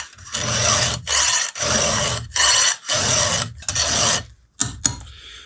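A hand file rasps across the teeth of a chainsaw chain in six loud, evenly paced strokes with brief pauses between, followed by a couple of short scrapes.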